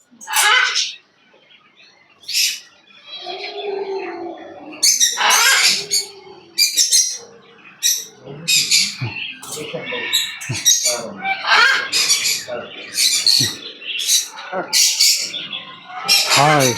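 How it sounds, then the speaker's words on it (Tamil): Large green parakeets in a pet store giving repeated sharp, loud squawks and chirps in irregular bursts, with occasional voices talking in between. "எவ்வளோ பெரிய பச்சைக்கிளிகள்."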